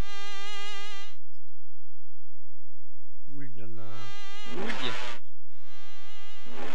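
A mosquito boss in the 1995 video game Rayman 1 gives off a loud, whining, tonal buzz in long sustained stretches, broken by a short silence, with a voice speaking briefly over it.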